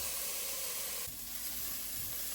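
Sliced onions cook in melted butter in a pan, a continuous broad hissing sizzle that stays fairly even throughout, dipping slightly partway as the cooking settles.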